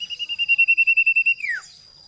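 A common iora, a small songbird, sings a rapid run of about fifteen clear, evenly spaced whistled notes on one pitch, then ends with a quick falling slur; loud and close with no other sounds.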